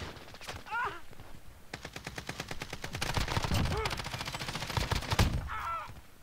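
Call of Duty: Modern Warfare gunfire rattles in rapid automatic bursts, a dense run of shots building then easing, with a voice faintly underneath.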